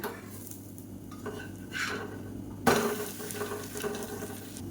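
A dosa flipped over on a hot pan, with soft scraping and a sharp metallic clack from the turner against the pan, then a light sizzle continuing afterward.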